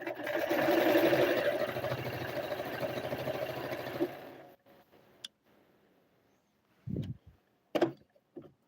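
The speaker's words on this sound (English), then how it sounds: "Let me show you guys from close up sewing." Sewing machine stitching a decorative shirt, a steady close mechanical whir for about four seconds, then stopping, followed by a few faint knocks and handling sounds.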